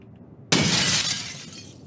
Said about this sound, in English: Did I just break that window open?